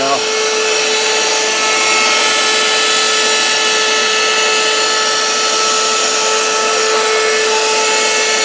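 A Ridgid handheld cordless vacuum fitted with a spreader tool runs in a loud, steady, high-pitched whine with a constant airy rush, unbroken throughout.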